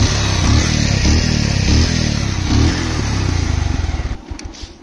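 An old Bajaj Pulsar 150 motorcycle engine revs repeatedly up close, its loud throaty exhaust swelling and falling in several pulses before dropping back to a rough idle.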